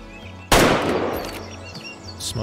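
A single rifle shot fired at a bighorn sheep in the hunting game Way of the Hunter cracks out loud and sharp, then rolls away in a long echoing tail over quiet outdoor ambience.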